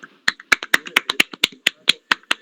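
Sharp, distinct claps in an uneven rhythm, about a dozen of them, from a small group welcoming a guest onto the stage at a poetry recitation workshop, close and clear with no talking.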